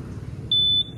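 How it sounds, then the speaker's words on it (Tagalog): A single short high electronic beep from a 2020 Yamaha NMAX scooter's answer-back system sounds clearly and close, about a third of a second long, over faint background hum. "pag meron ka lang narinig na beep sound, ay babalik na yan."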